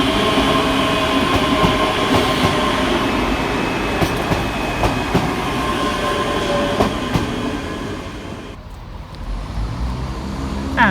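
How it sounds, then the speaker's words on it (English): A ScotRail passenger train from Glasgow Central rumbles steadily into Edinburgh Haymarket station with rail screech and hum, the loud mechanical noise easing briefly near the end before rising again. "Arriving next into the station, the slightly delayed 1437 ScotRail service from Glasgow Central"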